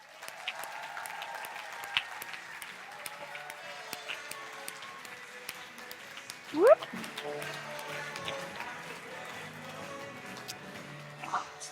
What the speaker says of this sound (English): Round of applause for Cordelia Kate, ladies and gentlemen.